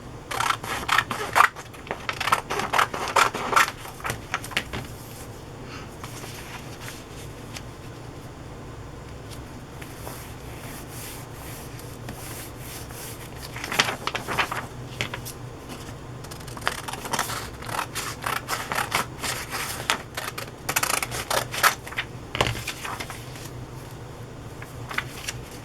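Scissors cutting paper for a glue book craft project, close-up snipping and crinkling in uneven bursts with quieter pauses in between and no talking.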